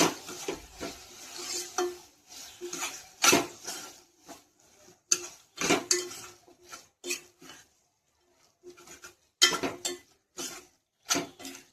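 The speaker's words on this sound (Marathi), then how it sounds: "त्यात थोडी कोथिंबीर, हे कालवून घ्यायचं छान।" A spoon scraping and stirring cooked ridge gourd bharit with coriander in a pan, irregular bursts of clattering and scraping separated by brief pauses, close up, with a faint sizzle and no speech.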